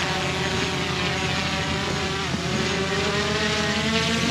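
Drone lifting off at a survey site and flying, a continuous loud propeller whine with a rising, shifting tone as it climbs away, no voices over it.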